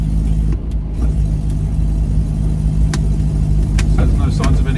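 A 1955 Fiat 500C Topolino convertible saloon with a four-speed gearbox runs steadily while driving, its small engine producing a continuous loud low hum with a few faint clicks and knocks on top.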